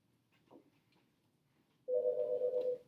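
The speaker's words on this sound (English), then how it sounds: "Let me answer the phone." After a near-silent pause, a telephone rings with a steady electronic tone, close and clear, holding for about a second with no voices.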